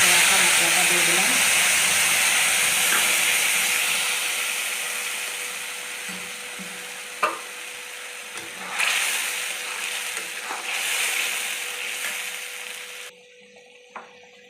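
Spices and fried masala hit hot oil in a pan and give off a loud, steady sizzle that slowly fades over several seconds, with a few clicks and knocks, before it cuts off near the end.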